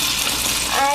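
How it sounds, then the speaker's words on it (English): A gallon of lukewarm water pours steadily into a goldfish tank, a continuous close splashing gush with no break through the whole second. "you carefully dump a gallon of water into the tank"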